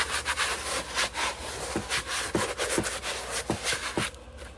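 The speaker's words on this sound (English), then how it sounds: "Grease that one and this one." A pot mould for hypertufa cement pots being greased inside by hand, close rhythmic rubbing and scraping strokes with soft thumps, no speech.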